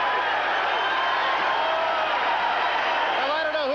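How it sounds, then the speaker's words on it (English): A boxing arena crowd roars at the end of round seven of a heavyweight bout between Larry Holmes and Trevor Berbick, a sustained loud swell of cheering with a voice speaking over it. "And the crowd comes to its feet."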